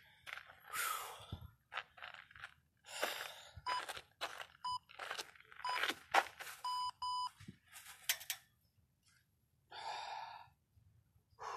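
A workout interval timer gives short electronic beeps in a loose series during a weighted muscle-up session, mixed with heavy breathing, gasps and sighs.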